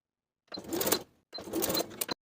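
A sewing machine bastes the top edges of fabric pieces for a shirt jacket in two short, close bursts of rapid stitching separated by a brief pause.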